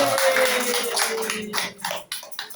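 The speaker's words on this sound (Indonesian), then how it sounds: "Tepuk tangan dulu buat kelompok" A classroom group applauds a presenting group during a microteaching session, a burst of dense clapping that thins into a few scattered claps before fading.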